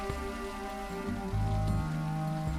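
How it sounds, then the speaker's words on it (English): Rain falling in the cozy shop-sim video game Teddy's Haven, a steady close hiss of drops on a surface, heard alone over a droning background of game music. "Enjoy the rain, yeah?"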